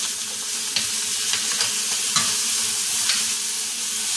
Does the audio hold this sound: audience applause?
no